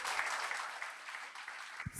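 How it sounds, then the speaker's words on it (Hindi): A PW CA Inter result celebration crowd gives the faculty a dense burst of clapping that ends abruptly after about two seconds, with nobody speaking. "जोरदार तालियों के साथ बच्चों"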